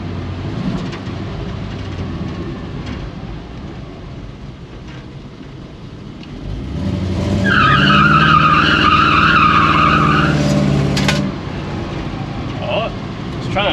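A twin-turbo 1956 Chevrolet two-door spins its rear tires in a long, rising tire squeal over a loud engine roar, which then fades back to a lower rumble.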